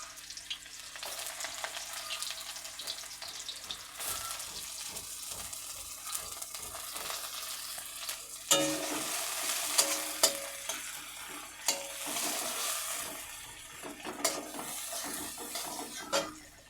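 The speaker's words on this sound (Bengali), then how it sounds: "একটু লাল লাল করে ভেজে নেব এটা।" Sliced onions hiss and crackle in hot oil, a continuous close sizzle with frequent spatula scrapes and clinks against the pan, growing louder and busier partway through, with no voices.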